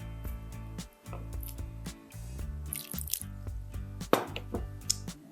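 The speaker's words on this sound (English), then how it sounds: "Now I'm adding a little bit water." Water trickles and drips in a steady, close-up stream into yeast and flour for calzone dough, with a few wet squishing sounds mixed in and no talking.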